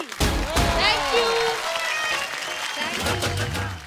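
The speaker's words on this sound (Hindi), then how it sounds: "तो एक बार जोरदार तालियां" Audience applause at a live show, a burst of clapping under ongoing voices and broadband crowd noise, with some thumps and a low rumble near the end.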